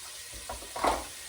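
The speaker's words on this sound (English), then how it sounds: "Yay, sizzle. Sizzle is a good sound." Diced celery ribs for chicken and rice soup hit a hot pot, giving a brief, quiet sizzle that swells in a short burst near the end before settling back to a low hiss.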